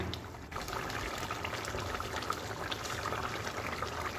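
Fish slide into a simmering thin curry gravy and a spatula stirs them, giving a steady bubbling, sizzling wash of liquid with small scrapes and splashes and no voice.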